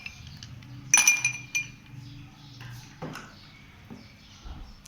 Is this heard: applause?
no